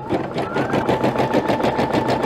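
Embroidery machine stitching a design on a hat clamped in a hat hoop for a 4x4 machine, a loud, steady rapid mechanical rattle of needle strokes repeating evenly throughout with no talk.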